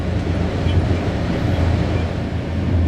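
A train rolls on through Gloggnitz, Austria, heading toward a mountain pass line, with a steady, loud low rumble and dense rail noise filling the whole stretch without letup.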